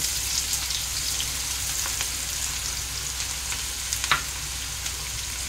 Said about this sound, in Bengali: পেঁয়াজ আর রসুনটা একটু ভাজা ভাজা হবে,